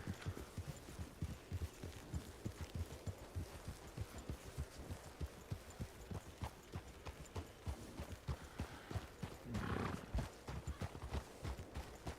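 Horse hooves clip-clop in a steady walking rhythm across a RedM ranch roleplay game scene on a winter road, close and evenly paced for the whole stretch, with a brief snort or rustle near the end.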